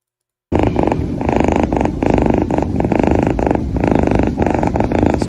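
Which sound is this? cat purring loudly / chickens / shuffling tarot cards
cat purring loudly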